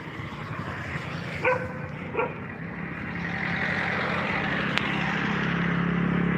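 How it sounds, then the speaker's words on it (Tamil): A dog barks twice in short bursts by a road during a pilgrimage walk to Palani. The barks are moderately distant, and a growing vehicle rumble runs underneath them. "இதான் ஃபஸ்ட்டு நாய் இப்போ இருந்து ஆரம்பிச்சிருச்சு குலைக்க ஆரம்பிச்சிருச்சு"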